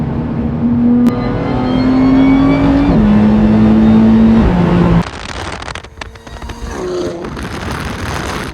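An Audi engine pulls hard from inside the cabin, its tone climbing steadily through several upshifts with brief dips between gears, then easing off into a lower, rougher drone with no talking.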